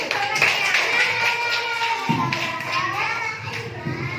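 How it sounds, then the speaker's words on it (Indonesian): A class of young schoolchildren claps together in a classroom, quick uneven hand claps mixed with lively children's voices and chatter throughout. "Oke, tepuk tangan dulu"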